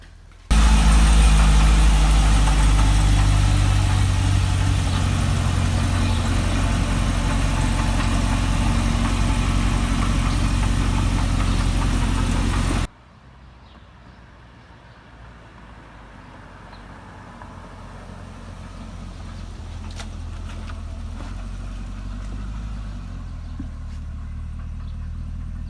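A car fitted with a new front splitter idles loudly with a deep, steady engine rumble, then the sound abruptly drops to a quieter, more distant running engine that slowly grows louder as it rolls out of the garage.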